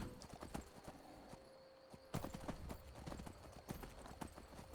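Horse hooves clip-clopping in the video game Skyrim, a quick steady series of sharp hoofbeats that pauses briefly and then resumes at close range, fairly clear, with faint ambient hum underneath.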